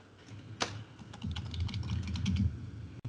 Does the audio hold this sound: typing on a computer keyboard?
yes